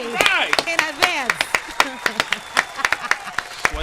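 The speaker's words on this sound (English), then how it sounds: "Give him a round of applause." A studio audience's round of applause mixes with cheering voices and sharp individual claps at a talk show, loud and close, under scattered speech.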